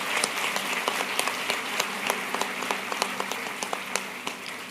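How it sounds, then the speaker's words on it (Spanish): Audience applause at a spiritual leadership seminar panel, a room of people clapping with sharp individual claps standing out over a steady patter, moderately loud and fading slightly at the end. "te damos un fuerte aplauso"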